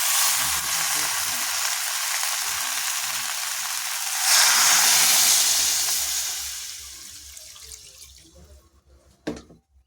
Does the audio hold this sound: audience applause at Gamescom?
no